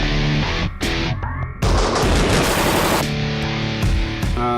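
An AK-74 assault rifle in 5.45 mm fires a dense run of loud, close shots, the bursts piling into a sustained roar with brief gaps between strings.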